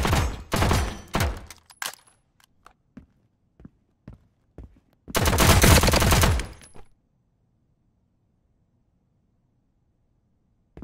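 Gunfire in the tactical stealth action video game Transience: a rapid burst of automatic fire, then scattered single shots, then a second long sustained burst, loud and close, followed by quiet.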